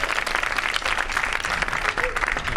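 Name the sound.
audience applause for the trumpet players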